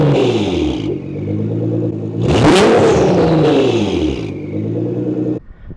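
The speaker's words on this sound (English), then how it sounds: "I almost forgot to rev this thing out for you guys." A loud Nissan GT-R engine with aftermarket midpipes and a new resonator revs up sharply to about 4,000 RPM, its pitch climbing and falling back as the throttle is released, then settles to a steady idle.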